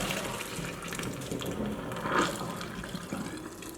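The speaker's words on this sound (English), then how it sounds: "we're going to drain the pasta now" Water from cooked fregola sarda pasta pours steadily into a kitchen strainer, a soft continuous splashing gush that swells briefly near the end.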